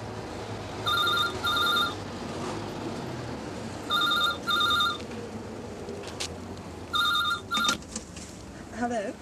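An old-style telephone bell rings in short double bursts, three rings spaced a few seconds apart, loud and close, with people talking and cheering underneath in a 1980s London Fire Brigade drama scene.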